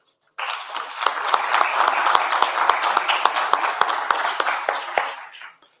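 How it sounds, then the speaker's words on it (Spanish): An audience at a session of the XXVI CLAD congress breaks into a loud, dense round of applause that closes the session, rising quickly, holding steady for about five seconds, then tapering off. "despedimos esta sesión, no sin darles antes un fuerte aplauso"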